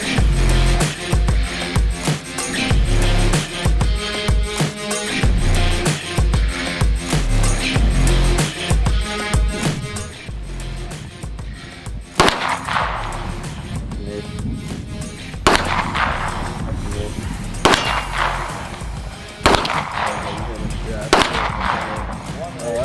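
Bursts of 9mm pistol fire at an outdoor shooting range, sharp reports spaced irregularly over dense loud background noise, with people talking between shots.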